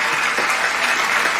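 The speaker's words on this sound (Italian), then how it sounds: "Facciamo un applauso" Dense, steady applause from a crowd fills the whole moment, loud and continuous with no pauses.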